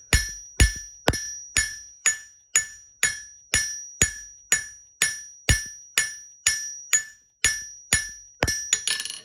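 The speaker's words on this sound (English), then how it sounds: "this hammer's just going up and down" Hammer strikes hot steel while forging a leaf at an evenly paced rhythm, about eighteen sharp ringing blows close up. A quicker flurry of lighter taps comes at the end, with no talking.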